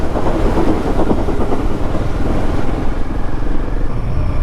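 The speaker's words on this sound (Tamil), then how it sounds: "ட்ரெயின் வருதே," A loud train rumbles past close by near Thalaikundha, on the route to Ooty, a heavy continuous clatter and roar that stays strong throughout.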